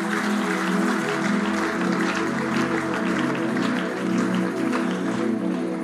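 Church congregation clapping steadily and loudly, blended with ongoing music and singing that carries through the whole stretch.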